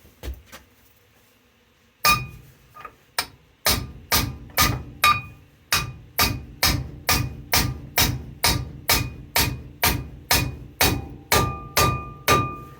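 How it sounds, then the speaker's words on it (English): Repeated hammer blows ring out on a metal front suspension part of a Dodge D150, a few scattered hits then a steady rhythm of about twenty sharp, clanging strikes, close and loud. "You just take a hammer, hit this end"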